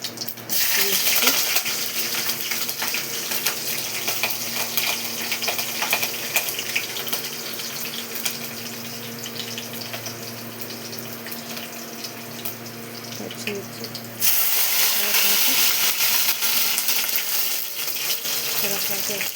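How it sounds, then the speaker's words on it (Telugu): Mustard seeds, cumin and green chilies fry in hot oil, giving a steady, dense hiss that keeps going without a break and gets louder toward the end, heard close up with nobody talking. "ఆవాలు, జీలకర్ర కొంచెం వేగగానే"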